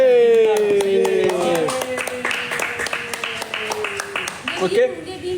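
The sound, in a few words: audience clapping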